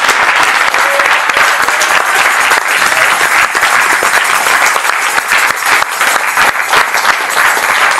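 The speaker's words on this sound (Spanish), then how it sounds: "Dale fuertes palmas al Rey, amén." A church congregation claps loudly and continuously, with dense overlapping hand claps and a few faint voices mixed in, holding a strong, steady level for several seconds.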